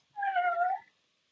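A single cat lets out one clear, close meow lasting under a second, then silence.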